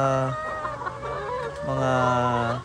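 Chickens cluck and a rooster gives drawn-out crowing calls close by, loud and harmonic, with a short pause between the two calls.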